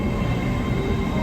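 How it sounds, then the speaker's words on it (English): An LNER Azuma train pulling away from York station, heard as a dense, continuous low rumble and rolling roar, loud and steady throughout, with no voices. "waving goodbye to our LNER Azuma as it continues its journey up to Newcastle"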